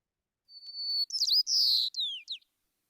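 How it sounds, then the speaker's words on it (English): An adult white-crowned sparrow sings a single short recorded song, a clear whistled opening note followed by rapid buzzy trills and chirps, heard alone against silence. "That's the normal white-crowned sparrow"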